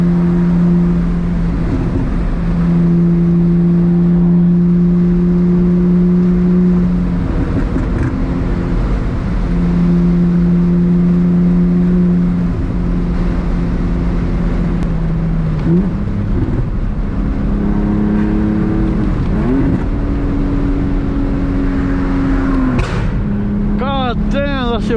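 BMW E46 with a 5-speed gearbox on a night drive: steady engine drone from inside the car, pitch rising and falling through gear changes, loud and constant, with a few sharp pops near the end.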